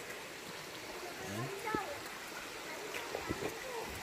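A small river, low on water, trickles and rushes steadily over rocks, a soft, continuous wash heard under a man's brief speech close by.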